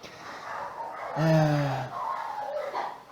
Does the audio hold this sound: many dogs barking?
yes